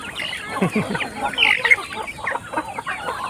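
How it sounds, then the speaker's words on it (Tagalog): A rooster clucks and calls a few times at moderate distance, with some background chatter from other fowl. "Ayan, yung nag-iisa natin tandang."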